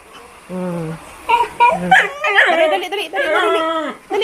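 A dog whimpers and yips in high, whiny bursts, close up, with a person's voice talking in between.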